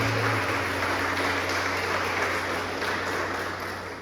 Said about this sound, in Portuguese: Pode aplaudir ao Senhor por isso?